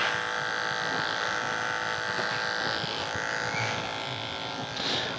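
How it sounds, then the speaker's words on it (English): Electric hair clippers buzz steadily in a barbershop during a classic men's fade, cutting clipper-over-comb with a constant mid-level hum and brief shifts in tone. "I'll finish the rest up with clipper over comb."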